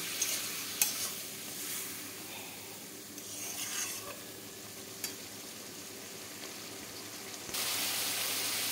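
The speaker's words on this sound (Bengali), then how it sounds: "গরম জল দিয়ে আমি মশলাটাকে একটু সবজিতে কষাবো।" Spices sauté with vegetables and a splash of hot water in a pan, giving a soft continuous sizzle with occasional stirring scrapes and a louder hiss near the end, with no talking.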